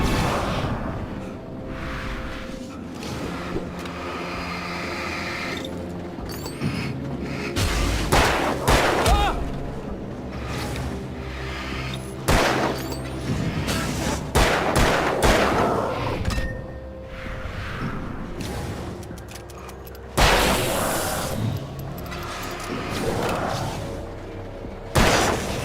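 Gunshots in the game Alan Wake, at Lover's Peak. Repeated loud bangs come in scattered bursts over a busy, rumbling game soundscape, with occasional speech mixed in.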